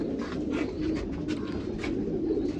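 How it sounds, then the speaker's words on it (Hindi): A pigeon at a dairy farm in Nashik, Maharashtra coos in low, soft, repeated rolls, close and steady against a continuous background hum. "बहुत अच्छा कबूतर है।"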